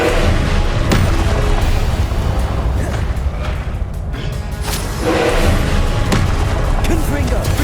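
Confringo blasting spell explosions in Hogwarts Legacy, repeated booming bursts over a constant loud rumble of combat, with voices casting spells in between.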